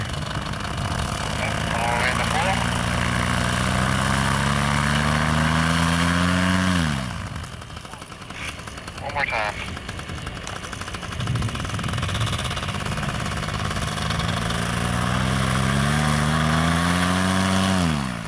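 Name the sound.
paramotor engine warming up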